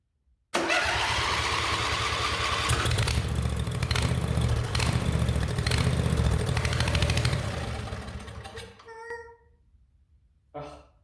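A carbureted motorcycle engine cranks and catches, then runs at a loud, steady idle close by for several seconds before dying down, followed by a couple of brief sputters.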